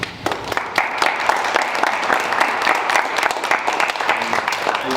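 An awards-ceremony audience claps in a steady, dense burst that runs throughout, fairly close and without pause.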